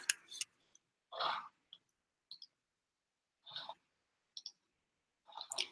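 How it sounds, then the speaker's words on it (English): Quiet, sparse clicks from someone selecting illustrations on a computer, heard as scattered short taps and small bursts with silence in between, faint and close, with no talking. "It's a lot of clicking, people."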